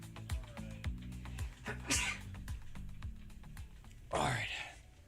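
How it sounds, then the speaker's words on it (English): A single sharp sneeze bursts out near the end, preceded by a smaller breathy catch, over steady background music. "I gotta sneeze."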